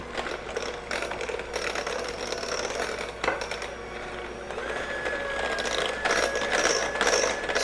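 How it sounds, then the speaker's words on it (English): An electric mixer whirs steadily while beating butter and cream cheese together for pumpkin spice bars, a continuous mechanical grinding hum with slight rattling, close and fairly loud. "So the first thing I'm going to do is mix my butter and cream cheese together."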